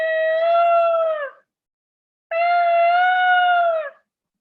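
A child imitates a peacock call with two long, loud, tonal wailing cries separated by a short pause.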